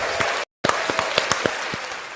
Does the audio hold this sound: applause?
yes